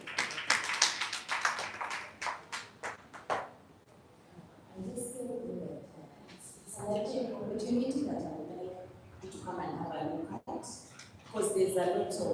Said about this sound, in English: Let us clap for Hilda as she comes to the stage